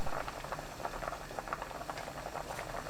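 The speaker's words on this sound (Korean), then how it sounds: "팔팔 끓으면 거품 걷어냅니다" A soybean sprout soup base with cabbage boils vigorously in an open pot over high heat, giving a steady, dense bubbling and popping throughout.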